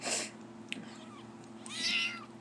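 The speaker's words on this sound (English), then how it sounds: "I've actually got a couple of the kittens sitting right here with me." Young kittens meow close by in a quiet room, two distinct high cries at the start and end with a small tap between them, over a faint steady hum.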